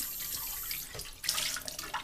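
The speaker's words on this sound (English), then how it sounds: "I'll give it a little bit of swish around with water." Water sloshes and swishes briefly around a cast iron pan that is being cleaned, faint and close, in short splashy bursts.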